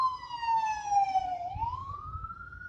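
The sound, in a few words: ambulance siren passing by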